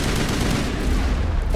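Dense gunfire in the space RPG Mass Effect, a rapid, continuous burst of shots that stays loud and close for its whole short length, with no voices.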